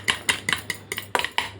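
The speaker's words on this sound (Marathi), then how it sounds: "दोन्ही अंडी आपण फोडून घेतलेली आहेत आणि चम्मचच्या साहाय्याने असे आपण फेटून घ्यायचे" Two eggs being beaten with a spoon in a bowl for an omelette sandwich, a steady run of about eight quick metallic clicks and scrapes, close and alone.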